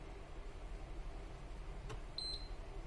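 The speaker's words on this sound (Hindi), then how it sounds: "एक पी करके बजर साउंड आई है" A short, clear electronic beep from an induction cooktop's buzzer near the end, sounding once over a steady low hum of background noise.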